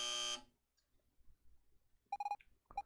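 Electronic buzzer tone in an Evoland 2 training exercise, a loud harmonic burst of about half a second at the start, then quiet before later tonal beeps.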